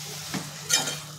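Masala cooking in its ground-paste water is stirred in a pan: two quick, close scraping strokes over a faint, continuous sizzle, with no voices.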